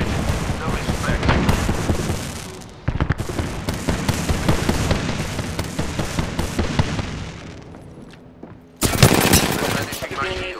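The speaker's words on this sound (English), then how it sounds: "Firing on our foes." Rapid automatic gunfire in the video game Apex Legends, dense bursts of loud shots with booming impacts rattling almost continuously, pausing briefly before another sharp volley.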